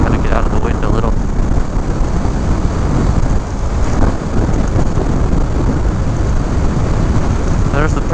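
Heavy wind buffeting on a motorcycle riding south along California Highway 16 through Rumsey Canyon, a loud constant roar of rushing air pounding the microphone throughout, with engine drone buried underneath.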